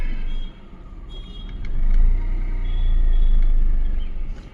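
A Renault Kwid Climber strains up a steep slope, its engine a loud, low rumble that dips briefly, then swells and holds heavy near the end, with no talk over it.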